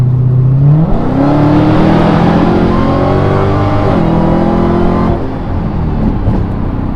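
A Dodge Hellcat engine revs up loud and close, its pitch climbing quickly and then holding a steady high drone before easing off near the end, with no talking.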